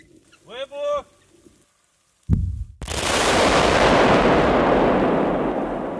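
A brief voice is followed by silence, then a heavy mine blast erupts and a second explosion rolls into a long, loud rumbling roar that slowly fades.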